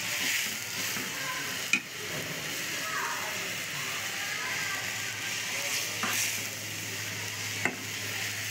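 Pangas fish pieces fry in oil in a pan, a steady soft sizzle with a few sharp clinks of a utensil against the pan, close and continuous.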